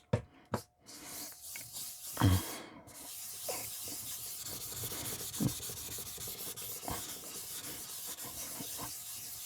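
A jasper stone is worked on a polishing machine: a few sharp knocks at first, then a steady abrasive hiss and rubbing that runs on evenly to the end.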